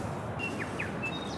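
A few short, thin bird chirps ring out against a soft, steady outdoor background by a river at a campsite, spaced apart and moderately distant.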